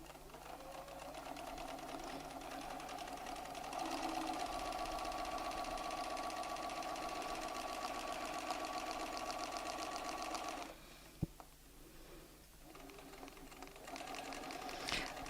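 A sewing machine quilts with a ruler foot riding along a template, a steady fast needle chatter running for about ten seconds, then stopping with a sharp click before briefly starting again.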